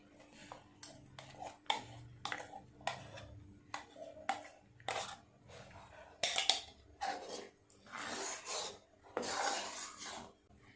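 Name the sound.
stirring mango phirni thickening in a pot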